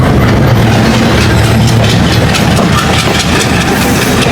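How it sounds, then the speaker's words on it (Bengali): Rocket train hauled by a 6519 series locomotive rumbles past close by, a loud, steady roar of heavy engine drone and rolling wagons that continues throughout with no talking. "19 সিরিজের লোকোমোটিভ নিয়ে আমরা দেখতে পাচ্ছি আমাদের সামনে থেকে চলে যাচ্ছে রকেট"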